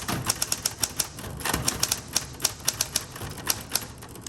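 A 1960s Spa Blue Coronet Electric typewriter types in quick, uneven bursts of crisp, close keystrikes, each with a sharp snap over a faint motor hum.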